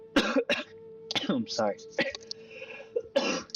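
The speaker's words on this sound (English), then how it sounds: "Candy coughs up a lung as he's smoking" During a tabletop role-play session, a voice acts out a character coughing while smoking cigarettes, with a few harsh, close cough bursts mixed with spoken words.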